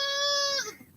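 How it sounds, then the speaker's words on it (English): A goat bleats loudly nearby in one sustained, wavering call that trails off after about half a second, with no talk over it. "the goat over there is hollering"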